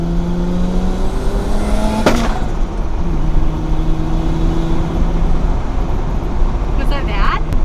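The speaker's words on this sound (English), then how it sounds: "I think that's the wastegate." A turbocharged BMW E30 engine pulls at high RPM, its tone climbing, then a sharp pop from the wastegate cracks out briefly before the motor drones on steadily.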